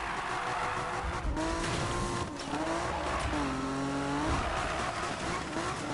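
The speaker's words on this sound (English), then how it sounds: "car sounds are like really, really good on here" Engine roar and repeated tire squeals from a car in the racing game Need for Speed 2015, loud and continuous, with rising and falling squeals as it slides through turns.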